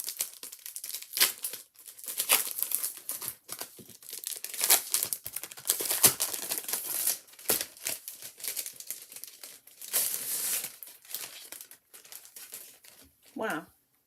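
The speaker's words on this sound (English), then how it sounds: "So this paper is Ombre specialty paper." Smooth ombre specialty glitter paper is handled at a stamping craft table, giving continuous close crinkling and rustling with sharp crackly bursts while a person talks over it.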